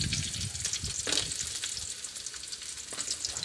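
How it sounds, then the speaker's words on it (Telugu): Onions and tomatoes deep-frying in a pan give a steady, loud sizzle and crackle, with brief stirring bursts near the start and no talking. "ఆనియన్స్ వేసి మొత్తం ఫ్రై చేసుకోవాలి"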